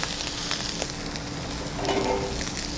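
Shrimp sizzling in a pan for restaurant-style shrimp scampi, a steady close hiss with soft crackles, brightening slightly near the end.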